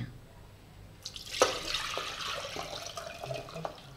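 Clean water poured into a pressure cooker holding sangri, a soft splashing pour that begins after a quiet moment and runs on fairly close and moderate in level, with small clinks along the way.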